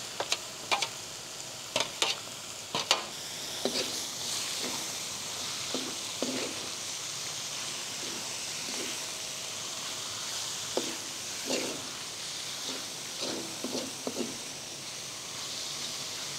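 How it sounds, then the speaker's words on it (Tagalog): Bell pepper, green peas and flaked milkfish sautéing in a pan give a steady close sizzle, broken by intermittent scraping stirs. "Tapos gisahin lang natin to ng mga 5 minuto"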